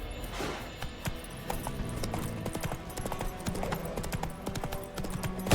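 Horse hooves beat out a steady, rhythmic clip-clop at a gallop in The Witcher 3, close and continuous, over a low musical background.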